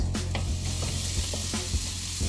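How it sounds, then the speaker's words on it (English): Onions and tomatoes sizzle steadily in a hot pan for North Karnataka girmit, a close, continuous frying hiss broken by several soft scraping stirs. "we're going to let the tomatoes cook for about 2 to 3 minutes"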